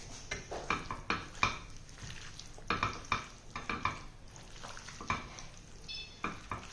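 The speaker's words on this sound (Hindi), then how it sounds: "और अब इन सारी चीज़ों को अच्छी तरह से मिक्स कर लेना है।" Chicken pieces being stirred together with soy sauce, chili sauce and finely chopped green chilies in a bowl, giving irregular wet clacks and scrapes of a spoon against the dish, close and fairly quiet, with no talking.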